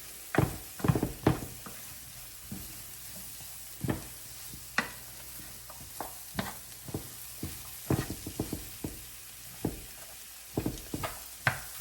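A utensil scrapes and knocks around a pan of sizzling steak and broccoli stir fry with dried parsley, making irregular clinks and scrapes over a soft steady sizzle.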